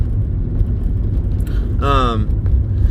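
A car engine rumbling low and steady on a test drive around the block after basic maintenance, heard from inside, with a brief voice breaking in over the drone.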